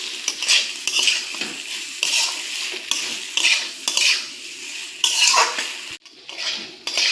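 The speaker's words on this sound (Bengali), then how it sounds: "এখন ভেজে রাখা পটল, আলু আর চিংড়ি মাছগুলো দিয়ে দেবো। মশলার সাথে খুব ভালোভাবে কষিয়ে নেব।" Fried pointed gourd, potato and shrimp are stirred with spices in a hot pan, a spatula scraping and clattering rhythmically against the metal over a continuous sizzle, close and fairly loud.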